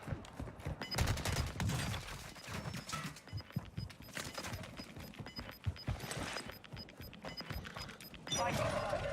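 Rapid submachine-gun bursts in Warzone 2.0, dense crackling volleys with mechanical clatter running through most of the stretch, with a voice speaking over the gunfire.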